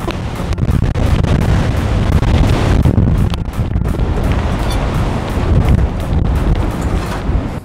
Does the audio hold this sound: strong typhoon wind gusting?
yes